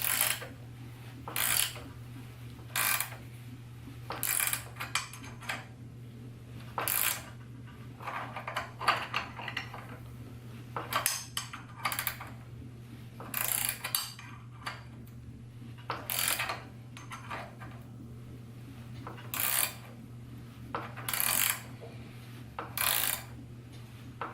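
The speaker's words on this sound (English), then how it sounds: "Basically, just tighten it up and you'll see the pulley start to come off." A puller tool is tightened with a 16 millimeter wrench to draw a pulley off an engine in an LSX-swapped 240SX. Repeated crisp metallic ratchet clicks come in short bursts over a low steady hum.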